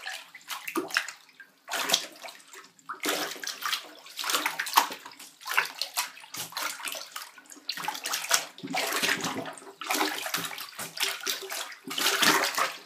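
Blankets are washed by hand in a bathtub of dirty water, with repeated sloshing and swishing bursts as the water is agitated in an uneven rhythm. No one speaks.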